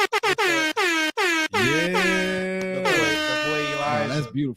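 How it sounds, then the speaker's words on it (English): An air horn blasts in a rapid series of short staccato honks, then one long sustained blare that wavers and cuts off, loud and close. "Where the air horns at?"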